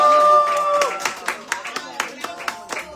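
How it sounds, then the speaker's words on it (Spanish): Audience at a Spanish-language cultural event clapping for a Colombian academic and philosopher, a modest scattering of claps close by, rhythmic and fairly sparse, with a brief held tone at the start. "Un aplauso para John Estrada."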